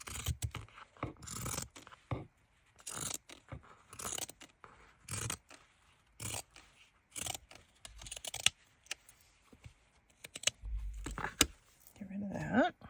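Paper being trimmed for a no-sew journal, a series of close, irregular snipping and scraping bursts with short pauses between cuts, quiet overall with no talking.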